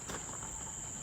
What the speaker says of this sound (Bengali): পোকামাকড়ের সবসময় ঝিঝি ঝিঝি ডাক শোনা যায়